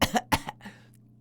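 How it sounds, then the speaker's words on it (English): Three quick, harsh coughs in a row, close and fairly loud, trailing off into a faint breathy rasp. "I start to cough, sputtering,"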